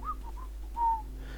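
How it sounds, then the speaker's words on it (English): A guard in the video game Thief: The Dark Project whistles a few short, faint melodic notes over a low steady hum, with no talking. "I love hearing the guards whistling."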